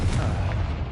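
A Confringo spell explosion in Hogwarts Legacy, a loud, dense low booming burst that fills the whole moment, with no voices.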